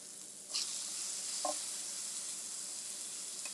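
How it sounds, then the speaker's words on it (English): Steady, even frying sizzle of chaffle batter hisses throughout, with a couple of faint clinks near the start. "Some of y'all are here for the frying sounds."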